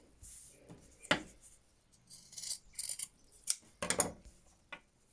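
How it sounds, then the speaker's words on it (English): Sharp scissors snip the fabric corners of a sewn face mask near the stitching, giving several crisp, close cuts in quick irregular succession. "So we just need to snip all of our corners like that, as close to the stitching as you can"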